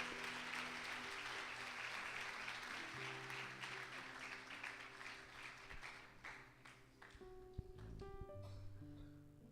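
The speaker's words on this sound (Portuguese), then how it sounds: "Um forte aplauso a Jesus." A church congregation applauds during a prayer service, sustained clapping that fills the whole stretch loudly, with some instrumental tones and a few sharp knocks near the end.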